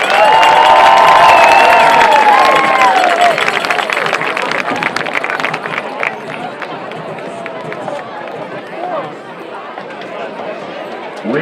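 A stadium crowd at a West Allegheny high school football game against Upper St. Clair cheers and claps for the marching band, a loud, broad roar with shouts that slowly fades.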